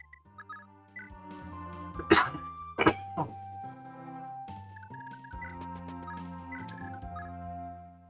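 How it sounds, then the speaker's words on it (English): A couple of sharp, close coughs over a steady backdrop of low tones and soft clicks, with quieter rustling afterward. "I'm coughing and scratching it."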